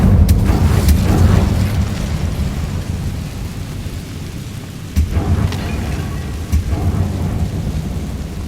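A fire spell cast in Hogwarts Legacy lands as a deep rumbling boom, then a long roaring, crackling wash of flame. A few sharper bursts follow near the end.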